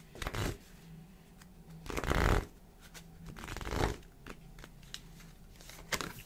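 Tarot cards are shuffled by hand in several quick, rustling bursts, close and fairly soft, with quiet pauses between them and no one speaking.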